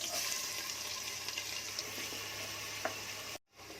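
Chopped onions fry in hot oil with garam masala and cinnamon pieces for a Konkani-style mutton head curry, giving a dense, steady sizzle that fills the clip before cutting out abruptly near the end.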